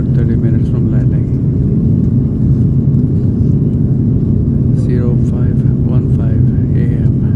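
Cebu Pacific airplane cabin in flight, a loud constant low engine roar and rumble filling the space, with faint voices murmuring in the background.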